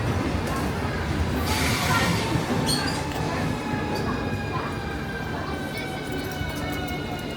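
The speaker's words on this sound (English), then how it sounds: "the train leaving the city of Kaliningrad" A train departing Kaliningrad station rumbles and squeals as it pulls away, with a burst of brake hiss early on and faint metallic whines over steady rolling noise.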